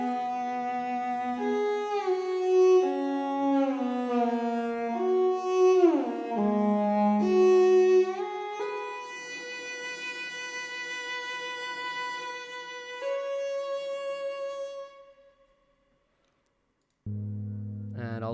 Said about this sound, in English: So for the second part of it, we added this cello here